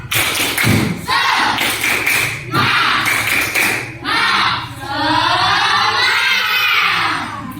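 A classroom group of children performs a rhythmic spirit clap, loud thumping claps in quick patterned bursts that give way to excited shouting and chanting voices close by.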